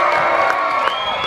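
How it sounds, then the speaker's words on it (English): A crowd cheers and whoops loudly at a county fair pig race, a sustained wall of voices and shouts carrying on steadily with a few sharper yells poking through. "I wanna hear a great big cheer from each of these sections out here"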